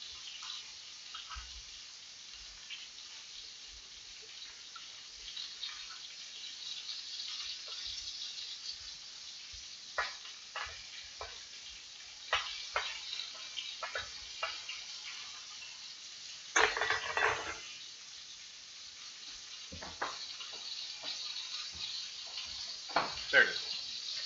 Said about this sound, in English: We just flip around the carrots like no big deal.